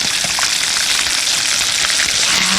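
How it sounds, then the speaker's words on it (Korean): Loud, steady sizzling of battered chicken frying in hot oil for lemon-sauce chicken, a dense crackling hiss with no talk. "지글지글 소리가 나야죠"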